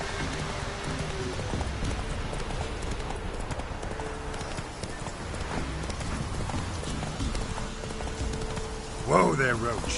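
Roach, a horse in The Witcher 3 video game, clip-clops along at a steady gait, hooves beating close and continuous under game sounds, with a brief voice near the end.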